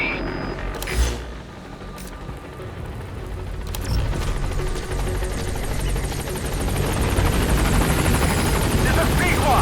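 The B-Quad helicopter in Metal Gear Solid V gives off a steady rotor drone that swells louder as it climbs, with a few sharp knocks early on and a voice talking over it.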